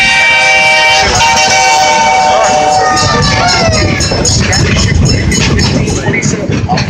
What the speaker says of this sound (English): That was another train.